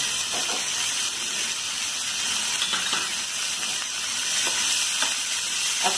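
Chopped tomato, vegetables and corn sauté in a pan with a continuous hissing sizzle, and soft scrapes and clinks of stirring recur throughout, close up.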